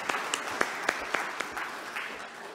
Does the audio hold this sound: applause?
yes